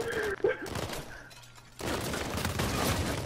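Uncharted 4 multiplayer match with a short crackle of gunfire, a quiet gap, then a sustained, moderately loud stretch of rapid shooting.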